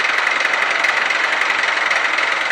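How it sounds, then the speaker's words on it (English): A Suzuki GS 500 motorcycle engine with a knocking fault runs loud and steady, a close, continuous idle with a fast, even ticking rattle throughout and no voices. "Yeah, the engine is knocking, definitely."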